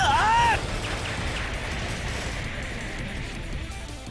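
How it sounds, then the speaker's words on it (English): A rocket explodes close by in the video game Baldr Sky. A brief cry at the start is cut off by a loud, sustained roaring blast that rumbles on to the end. "A rocket lands close by and wipes out my scream. The explosion threatens to swallow me whole."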